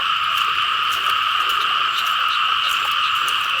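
Dense chorus of frogs croaking steadily and loudly, close by and continuous, at a flooded rice field or pond after rain in the rural countryside, with no voices.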